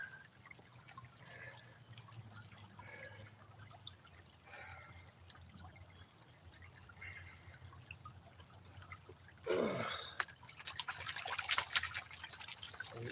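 Water sloshing and washing over pay dirt and black sand in a gold pan, soft trickles with a louder splash near the end, close and alone.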